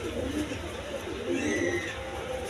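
Pigeons, including a big-sized pair of Morasel pigeons offered for sale, coo softly and steadily in low, rolling murmurs for a couple of seconds, with no other sound standing out.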